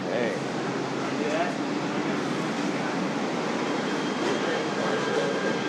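Busy train station with passengers boarding and leaving a stopped train: a steady, dense wash of crowd bustle, footsteps and rail-car rumble, with voices scattered throughout.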